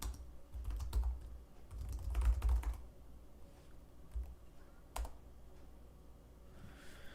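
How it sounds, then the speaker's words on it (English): Typing on a laptop keyboard during a troubleshooting live stream, quiet irregular bursts of key clicks and taps close to the microphone, with no voices. "I'm also on my laptop keyboard."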